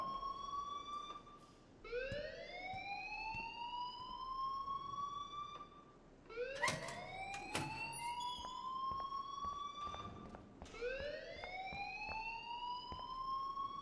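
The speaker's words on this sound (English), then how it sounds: "please turn off that alarm since that's your job" An electronic alarm blares in the Life Is Strange video game, three rising whooping sweeps that repeat about every four to five seconds, loud and steady with no voices.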